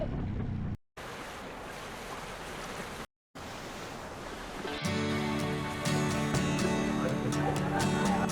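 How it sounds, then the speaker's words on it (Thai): Sam Chip waterfall on the edge of Khao Yai National Park in Thailand, heard after rain as a constant loud roar of rushing water mixed with wind buffeting the microphone, with music joining partway through. "นี่ก็อยู่ที่น้ำตก น้ำตกสามชิพนะครับทุกคน"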